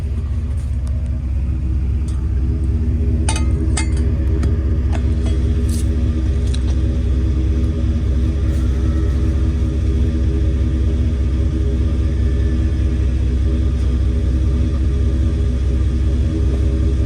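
A 2002 GMC 2500HD pickup with a Flowmaster cat-back exhaust idles with a steady, deep low rumble, close and continuous, with a few faint clicks and taps over it.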